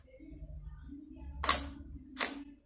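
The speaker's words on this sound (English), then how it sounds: "So let's take a photo" A camera shutter fires for a 1.6 second exposure at ISO 100 and f16: a sharp opening click, a pause of about a second, then a second click as it closes, heard close up over a faint low hum.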